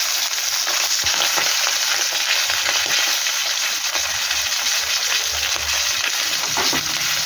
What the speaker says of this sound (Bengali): 5 ফোড়ন আর 15 লঙ্কা ফোড়নগুলো দিয়ে দিলাম, মাছের মাথাগুলো দিয়ে দিলাম